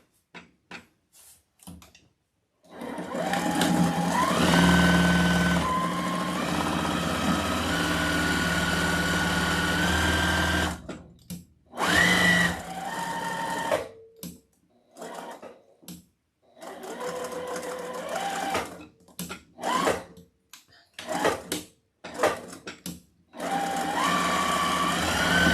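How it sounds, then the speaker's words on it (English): Sewing machine stitching a leprechaun wreath attachment, running in a long steady burst followed by shorter stop-and-start runs, close and fairly loud with quiet gaps. "And we'll sew the other one."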